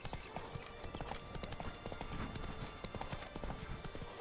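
Steady clip-clop of the horse Roach's hooves in The Witcher 3, a quick even rhythm of close, crisp hoofbeats running throughout, with faint bird chirps near the start.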